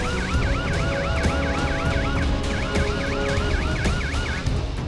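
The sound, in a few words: security vehicle sirens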